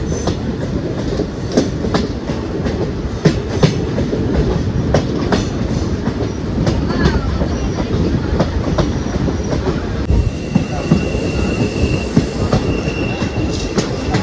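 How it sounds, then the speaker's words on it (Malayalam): Second-class passenger train on the 120-year-old Kollam to Aryankavu line climbing uphill at about 30 km/h, with a steady loud rumble of carriages, rhythmic clickety-clack of wheels over rail joints and occasional faint wheel squeal, no voices. "ആ P4 നല്ല അടിപൊളിയായിട്ട് നമ്മുടെ ട്രെയിനിനെ കയറ്റുന്നുണ്ട് മേലേക്ക്"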